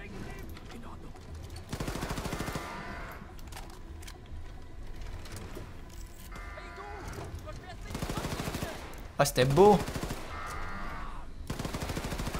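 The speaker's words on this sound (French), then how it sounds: "Le bruit des coups de feu, en fait, il est très faible par rapport à... bah, ce que ça devrait être." Rapid automatic gunfire from the shooter Wolfenstein 2: The New Colossus rattles in several separate bursts, fairly quiet and thin, with someone briefly speaking between the volleys.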